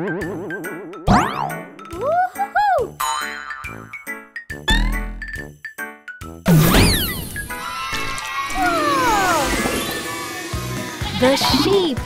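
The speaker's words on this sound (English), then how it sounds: "Sheep." Cartoon sheep bleating in a children's colour-learning animation, short wavering bleats mixed with boings, jingles and playful sound effects, with a voice talking over parts of it.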